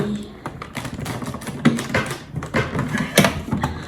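Irregular clacking of 1970s typewriter keys struck one after another, fairly close and crisp, with uneven rhythm and a few louder hits.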